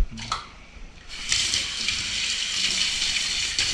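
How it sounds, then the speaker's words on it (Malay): Water runs and splashes steadily from a tap while dishes are washed, after a couple of light clinks at the start, close and fairly loud. "basuh pinggan"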